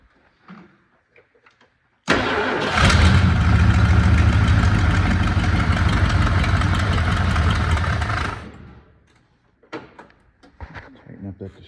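Engine of a 1979 Ford F350 Ranger XLT 4x4 pickup, long dormant, cranks and catches into a loud steady close-up idle for about six seconds, then shuts off, with clanks and shuffling before and after.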